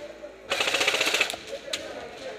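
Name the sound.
airsoft guns firing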